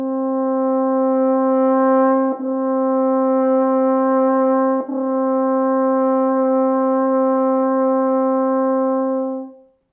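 A brass mouthpiece buzzed on its own sustains one steady pitch in a connected legato line, briefly tongued twice without a break in the tone, loud and close, with no talking.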